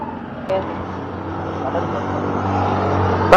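A 2020 model car engine idles steadily with a low, even hum that rises slightly toward the end, close by and continuous.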